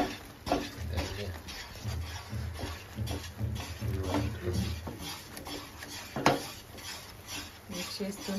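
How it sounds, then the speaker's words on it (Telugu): A spatula scrapes and stirs gram flour and ghee around the edges of a pan while making soft Mysore pak, giving repeated clinks and scraping strokes in an uneven rhythm, with a faint sizzle beneath. "అంచుకే అంచుకే అంచుకే కలుపుతున్నాను, మధ్యలో అసలు మిక్స్ చేయట్లేదు"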